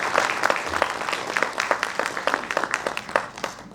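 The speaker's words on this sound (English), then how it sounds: "Can we begin the program with a round of applause?" Applause from an audience at an academic award programme, a moderate-sized crowd clapping steadily with distinct individual claps standing out, fairly close and unbroken.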